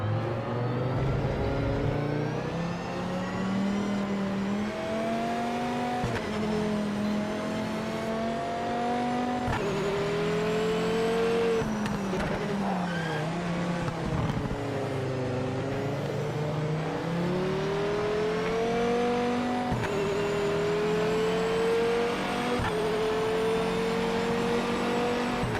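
Dodge Viper race car engine in Project Motor Racing, a loud, steady drone that rises through the gears and drops under braking, with repeated shifts and revving over the whole stretch and no talking.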